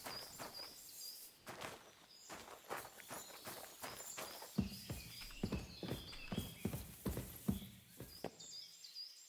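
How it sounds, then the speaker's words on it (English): Steady clip-clop of horse hooves at a walking pace in the video game Kingdom Come: Deliverance 2, close and moderately loud, with faint bird chirps in the background. "Sounds like it's my horse."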